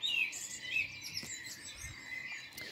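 A small brown bird chirps in quick, high, thin tweets and trills scattered across a few seconds, fairly faint over soft background ambience with no voices.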